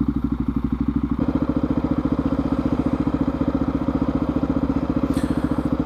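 A motorcycle engine pulses in a fast, steady rhythmic thumping while riding, loud and close, with the engine note shifting slightly early on and continuing evenly with no voices.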